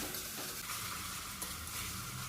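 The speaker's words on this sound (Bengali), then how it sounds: "এভাবে ভালো করে কিছুক্ষণ আমি মশলাটা কষিয়ে নিয়েছি।" Onion, garlic, ginger and green chili paste masala sizzles steadily in a pan while being stirred, a continuous soft frying hiss with faint scraping, no voices.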